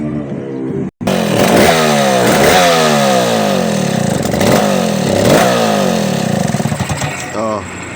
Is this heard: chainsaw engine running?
yes